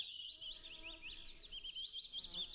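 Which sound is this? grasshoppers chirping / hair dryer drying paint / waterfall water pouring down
grasshoppers chirping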